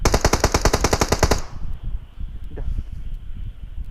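Rapid automatic fire in PUBG Mobile, a burst of roughly fifteen loud, close shots in quick even succession, followed by a low rumbling rustle of in-game ambience and faint distant sounds.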